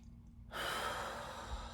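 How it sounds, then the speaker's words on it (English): A slow, deep inhalation begins after a brief quiet moment and carries on steadily to the end, a close, airy breath drawn in without speech. "take a deep breath in"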